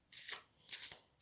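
A chunky tarot deck shuffled in two quick riffling bursts, crisp papery ripples, close and fairly loud, with no talking.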